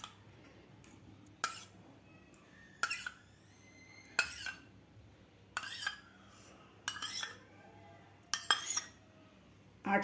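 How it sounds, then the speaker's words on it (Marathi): Spoon clinking against a bowl while curd is added to panchamrut, a sweet mix of ghee, sugar, curd and milk; about seven sharp, close metallic taps spaced roughly a second or more apart over quiet background. "आठ चमचे मी दही घातलेलं आहे।"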